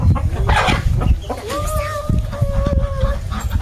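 Village-raised desi chickens cluck and call close by, a run of short clucks followed by a longer drawn-out rising call, loud against a busy rural yard background.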